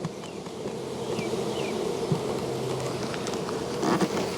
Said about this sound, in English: they can just walk right back in, and we're gonna get a bunch of bees here.